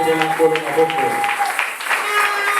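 A church congregation applauds and cheers loudly over sustained singing or music, making a dense wash of clapping under the tones.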